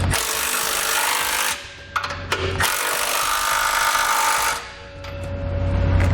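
Base plate bolts being tightened on a 2017 Jeep with a power tool: long, loud, steady whirring runs broken by brief pauses and clicks, close up, with no talking.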